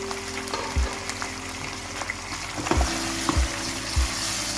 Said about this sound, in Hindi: बस चिकन को सिर्फ थोड़ा सा पकाना है हमें, कलर चेंज होने तक।